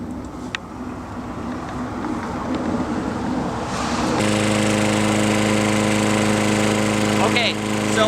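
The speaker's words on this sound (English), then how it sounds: "one thing you'll notice while I'm mowing the lawn here is I'm taking it nice and slow" A lawn mower cuts grass in a leaf-strewn yard, starting with a rough background rumble and then a steady, loud engine drone with a strong hum that holds without any talk.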